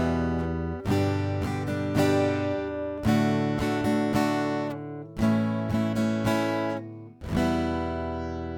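Rhythm guitar strums a chord progression with extra strums added to every chord, steady repeated attacks in groups, close and full-bodied with no voices.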